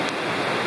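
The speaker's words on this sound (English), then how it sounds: "right beside the Rocky Fork Creek. This is off to the side and you can hear it." Rocky Fork Creek flowing beside a hiking trail, a steady broadband rush of running water, close and constant.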